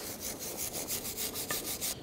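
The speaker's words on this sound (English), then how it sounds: "Use a wire brush and just clean up the rust right here." Wire brush scrubbing rust off a rear brake caliper bracket on a 2006-2010 Volkswagen Jetta, a soft, quick rhythmic scraping of about ten strokes, close up and fairly quiet.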